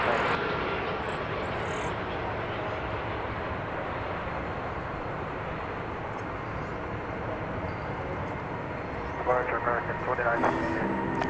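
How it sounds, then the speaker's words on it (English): An American Airlines Airbus A321neo jet departs for Los Angeles, a steady broadband engine roar filling the whole stretch at moderate distance, with a brief rise near the end and talk faintly beneath. "Headed out to Los Angeles was American Flight 2978, an Airbus A321neo"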